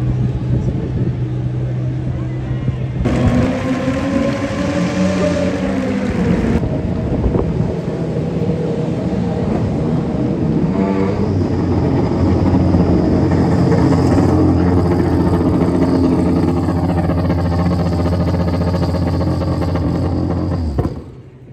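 Cars at a Red Bull Motormania motorsport event roar past nearby, a loud sustained engine drone with shifting pitch and wind buffeting across the whole stretch, voices faintly mixed in.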